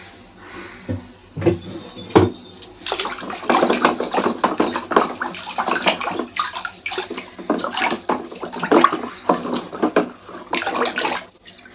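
New clay pots (sugad) bought for worship are rinsed with water, giving loud continuous splashing and pouring that swells and dips in uneven waves, with a few knocks of clay at the start.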